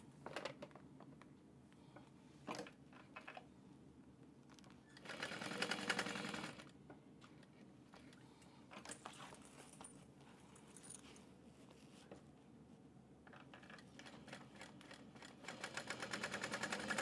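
A sewing machine bastes along the sides of a fabric train case as the zipper pulls are brought in. It runs in a steady mechanical whir with short bursts and pauses and one louder stretch, close by and quiet, with no talk.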